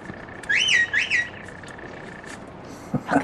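A shepherd's whistle commanding a sheepdog at a sheep dog demonstration in Ireland: two sharp rising-falling whistle blasts in quick succession, clear and fairly near, followed by a faint voice.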